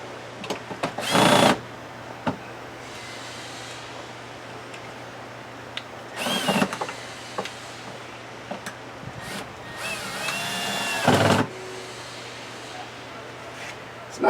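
A handheld power tool drives screws back into the rear camera panel on a Ford Edge tailgate, three loud whirring bursts of one to two seconds each, separated by quieter handling and clicks, with a voice partly over them.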